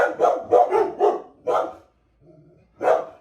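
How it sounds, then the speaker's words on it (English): Dogs bark in a quick burst of several sharp barks, then pause with a soft whine before one more bark, close by and loud. "Dee Dee and Sam's normal barking hour."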